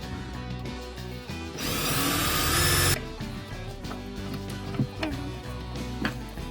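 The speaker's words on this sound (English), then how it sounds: "Some self-tapping screws were crumbling from rust, so I had to ask my husband to drill them out." A power drill bores out rust-crumbled self-tapping screws from a 1950s wooden dresser: one loud, steady whirring burst of about a second and a half, set among quieter knocks and handling noises from the workpiece.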